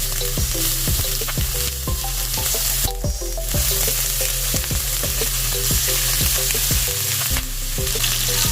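Chicken pieces fry in a hot cooking pan for a chicken casserole, giving a steady, loud sizzle throughout with repeated clicks and scrapes of stirring and turning, and no talking.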